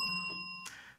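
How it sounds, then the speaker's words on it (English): A single bright bell ding rings out at a tabletop game session, its clear sustained tones hanging for most of a second before a brief noisy burst cuts across them. "That's a bell."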